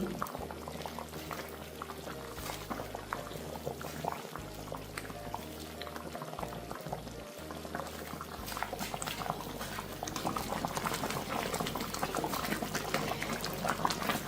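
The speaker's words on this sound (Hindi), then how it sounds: "जब तक ये एक तार की चाशनी नहीं बन जाती तब तक इसे हम पकाते रहेंगे।" Aloo bukhara (plum) chutney syrup boils steadily in a pot, a dense, continuous bubbling and popping that stays close and grows slightly louder toward the end.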